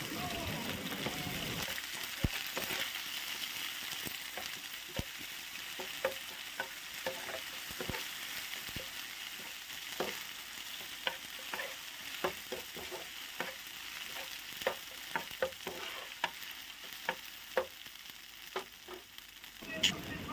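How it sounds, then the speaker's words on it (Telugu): Ginger paste frying in a pan while a spoon stirs it, a constant soft sizzle with regular scraping strokes and taps throughout, heard up close. "అల్లం పేస్ట్ పచ్చివాసన పోయేంత వరకు బాగా కలుపుకోవాలి"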